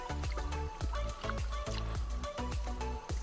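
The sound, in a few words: mountain spring water flowing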